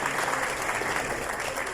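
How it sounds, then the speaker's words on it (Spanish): A crowd at a corporate award ceremony gives dense, steady applause that stays loud and even throughout, with no pauses. "Con un fuerte aplauso reiteramos nuestras felicitaciones."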